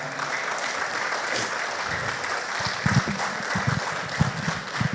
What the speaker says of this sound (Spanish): ¿Cuánto le da un aplauso a Dios por esta palabra?